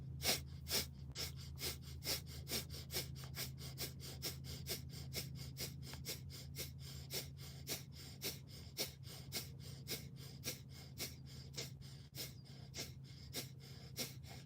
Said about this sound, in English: Last round, breath of fire.